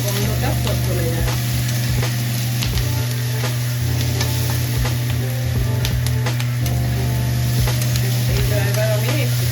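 Crushed garlic fries in hot oil in a pan with a steady, loud, close sizzle, and a utensil stirs and scrapes through it now and then, with no talk.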